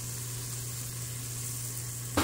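Cheesy potatoes sizzle steadily on a hot Blackstone griddle outdoors, a close, even frying hiss that ends with a brief bump.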